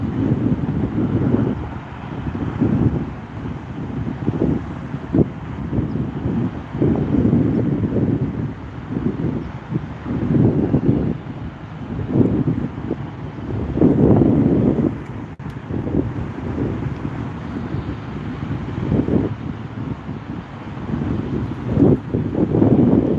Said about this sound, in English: Here's the takeoff from the Beech 300 Super King Air 350.